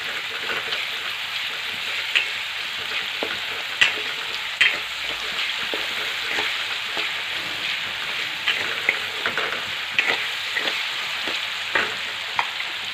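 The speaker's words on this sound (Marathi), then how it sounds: "आता आपल्याला असंच एकसारखा हलवत कांदा पटकन घ्यायचा" Chopped onion sizzles steadily in hot oil with salt, a dense continuous frying hiss broken by light scraping clicks as it is stirred in the pan.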